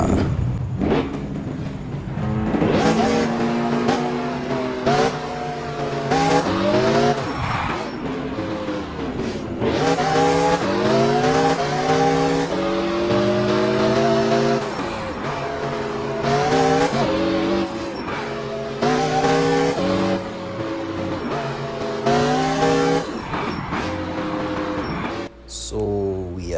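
A car in the video game Car Parking Multiplayer revs and drifts, engine notes climbing and falling in repeated sweeps with tire squeal between them, loud and continuous with little talk over it.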